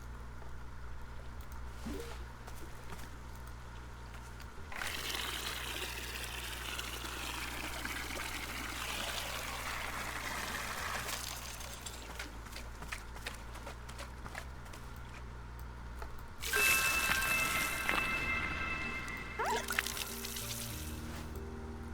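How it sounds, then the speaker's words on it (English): Water pours from a watering can onto an egg in the cozy video game Wanderstop, a soft trickling splash with light clip-clop-like taps and chimes, faint and unspoken over roughly twenty seconds. "Fill the watering can with water, then pour it onto your new egg."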